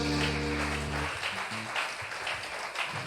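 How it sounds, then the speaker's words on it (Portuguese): A church congregation applauds in a steady, dense wash of clapping that fills the space after a sung passage fades out in the opening second. "Vamos aplaudir o nome de Deus"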